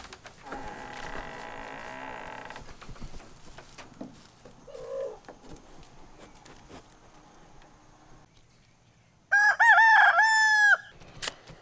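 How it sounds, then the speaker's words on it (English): A rooster crows loudly once near the end, a long rising-and-falling call after a stretch of quieter clucking and rustling background sounds. "I don't know if our neighbors really appreciate the rooster"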